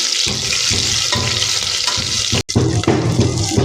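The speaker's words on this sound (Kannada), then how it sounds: "ಇದಕ್ಕೆ ನಾವು ಈರುಳ್ಳಿಯನ್ನು ಹಾಕ್ಕೊತಾ ಇದ್ದೀನಿ. ಈರುಳ್ಳಿಯನ್ನು ಚೆನ್ನಾಗಿ ಫ್ರೈ ಮಾಡ್ಕೊಳ್ಳೋಣ." Onions sizzling in hot oil inside a pressure cooker with cumin already in, a steady dense hiss with a brief cutoff partway through, no one speaking.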